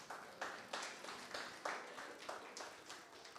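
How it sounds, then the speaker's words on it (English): Scattered applause from a conference audience for the presenters, rather faint and thin, with distinct claps coming in irregular bursts and no one speaking over it. "I request all the participants at least please applaud the presenters."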